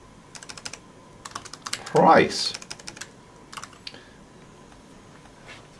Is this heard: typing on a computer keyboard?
yes